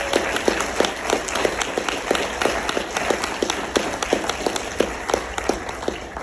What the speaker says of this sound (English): How about you give yourselves another round of applause?